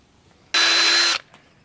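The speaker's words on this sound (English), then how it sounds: "So we're gonna drill it out." A power drill bores out a plastic weld inside a bolt hole on a Jeep light bracket, one loud, high whine of just over half a second that starts and stops abruptly in a quiet room.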